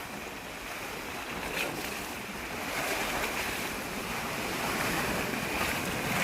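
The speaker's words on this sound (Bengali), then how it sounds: "প্রচণ্ড ঢেউ হচ্ছে নদীতে।" Heavy river waves churn and crash in a dense, unbroken roar that builds gradually louder, with wind noise pressing on the microphone and no talking.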